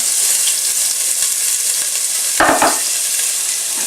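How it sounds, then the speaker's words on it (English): Chopped onion hits a hot pan with a sudden loud sizzle partway through, over a steady frying hiss, while cooking a spicy dhal soup. "The onion's very robust, will fry really well, it won't burn very easily. So in goes the onion."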